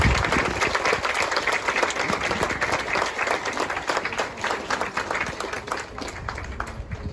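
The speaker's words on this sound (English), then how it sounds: "Please join us in a round of applause for the fallen veterans" A crowd claps steadily in sustained applause, dense and fairly loud throughout, with no voices standing out, at an outdoor graduation ceremony on a parade field in Georgia.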